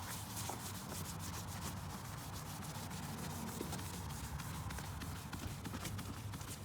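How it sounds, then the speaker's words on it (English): A restore-kit pad scrubbed back and forth over a car headlight lens, a continuous close, hissy rubbing with a fast repetitive rhythm and no voices over it. "there you can see the lens, so we'll get to rubbing here"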